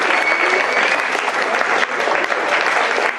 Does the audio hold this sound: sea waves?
no